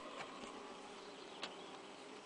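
Bees in beehive number 8 give off a low, steady buzzing hum, faint and continuous, with a few brief louder wingbeat passes close by.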